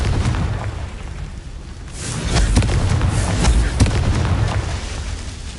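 A Confringo blasting spell in Hogwarts Legacy sets off explosive booms, a swelling rumble broken by several sharp bursts and pops, loud and close over a continuous noisy bed.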